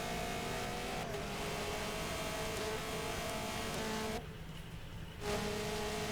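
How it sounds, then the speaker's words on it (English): Race car engines drone steadily in Forza Motorsport 7 during a racing-league event at Suzuka, a dense layered whine of several cars at speed that briefly drops out before resuming. "Listen to the cars."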